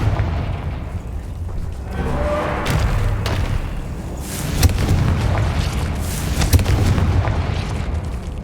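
Confringo fire spell explosions in Hogwarts Legacy, a wizarding video game, sounding as several sharp booming blasts over a dense rumbling background with no talk.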